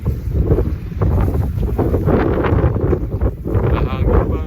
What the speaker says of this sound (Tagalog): Lakas ng hangin. Tapos snow.